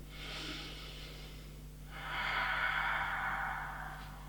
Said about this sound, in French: On lève les deux bras au-dessus de la tête et ici on prend des grandes respirations.